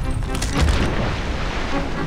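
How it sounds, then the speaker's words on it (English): A deep, sustained booming explosion rumbles through a theatre in the Wonderbook: Book of Spells video game, loud and continuous with a rolling low roar. "How much alcohol was in that theatre for it to explode so many times?"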